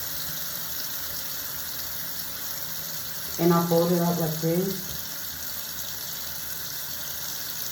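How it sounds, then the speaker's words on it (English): Hot water runs steadily from a bathroom tap, a constant faint hiss throughout, while someone speaks briefly over it. "So I'm gonna run the hot water first,"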